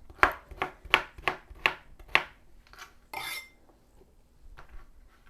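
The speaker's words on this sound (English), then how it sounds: "let me finish cutting up this onion" A knife chops an onion on a board in a quick run of about six sharp, close strikes, followed by a brief scraping sweep and a couple of softer taps, with no talking.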